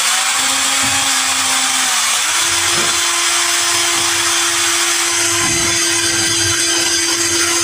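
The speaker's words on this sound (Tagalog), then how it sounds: "Ganito po ang isang drill." An electric drill whines steadily and loudly while polishing the shaft of an electric fan, its pitch shifting upward partway through, with faint contact rubs under the motor hum and no talk.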